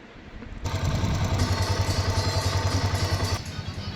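An old Bajaj Pulsar motorcycle engine idles at slow speed, a close, steady low pulsing thump with a mechanical clatter that swells in after a quiet start and fades slightly near the end.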